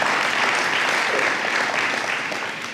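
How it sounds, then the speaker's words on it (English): A crowd at a ChicagoCHEC press conference applauds steadily, a thick, continuous wash of clapping at fairly high volume that tapers off slightly near the end. "Please, a round of applause for Dr. Wynn."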